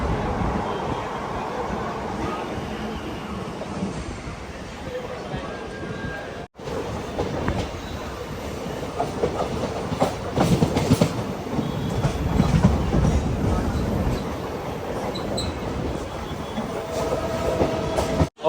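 A passenger train runs into Bengaluru with a loud, steady rumble and rhythmic clickety-clack of the wheels on the rails. Brief squeals and cabin noise sit over it, heard from inside the carriage.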